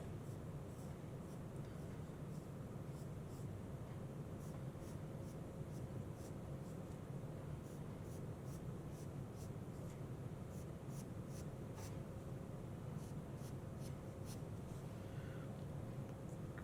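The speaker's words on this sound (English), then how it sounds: "So just using the lighter part of our pencil, we can show that, with lighter lines showing that depth." Faint pencil strokes lightly sketch lines on paper, a series of soft, short scratchy strokes in an irregular rhythm over a steady background hum, with no talking.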